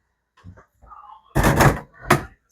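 A broken pantry door is handled nearby: a few soft bumps and a faint scrape, then two loud clattering thuds as the door is shoved and knocked against its frame.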